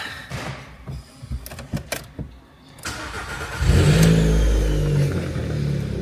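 A 1.2 TSI car engine with a straight-piped exhaust, a few clicks and a door thud, then the engine cranks and fires into a loud, steady, close idle that runs to the end.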